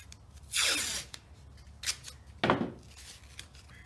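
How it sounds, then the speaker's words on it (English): Tape pulled off a roll and stretched across 3D printed cosplay armor pieces to hold them together, heard as two quiet tearing rips about two seconds apart with a fainter rustle between, with no talk. "you're going to take your tape and you're going to tape it together"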